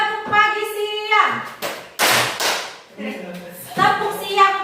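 A school class claps a short rhythm pattern on their teacher's command, a few quick sharp hand claps in unison. A voice speaks before and after the burst.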